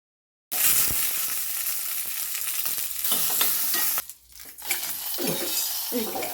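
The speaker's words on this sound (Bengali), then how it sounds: "তেলের মধ্যে কালো সর্ষে শুকনো লঙ্কা আর কারি পাতা ভেজে এটার মধ্যে দিয়ে দিতে হবে" Black mustard seeds, dry chillies and curry leaves fry in hot oil, a bright crackling sizzle with stirring and clinks of a utensil against the pan, briefly dipping midway before resuming close and steady.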